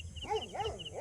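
Dogs barking and howling at a crematorium ghat, arching repeated calls in a steady rhythm, moderately distant and fairly faint, with no talk.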